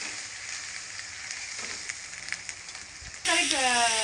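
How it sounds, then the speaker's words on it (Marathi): Paste of two large onions frying in a pan until red, a continuous close hiss and sizzle with small crackles, swelling into a louder burst of sizzling near the end, no talk. "हे कांदा पेस्ट याला पण चांगलं लाल होऊन द्यायचं"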